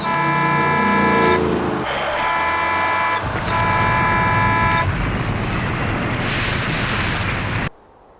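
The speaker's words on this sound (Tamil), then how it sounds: "அந்த பஸ்ஸு ரொம்ப வேகமாக வருது" A fast-approaching bus sounds its horn in several sustained blasts, followed by a loud rushing roar that cuts off abruptly at the end.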